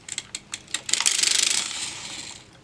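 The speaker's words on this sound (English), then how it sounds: "wrap the yarn to the back, and crank around" A circular sock knitting machine is cranked around, giving a few separate clicks and then a quick run of ratcheting mechanical ticks that swell and fade, close up and alone.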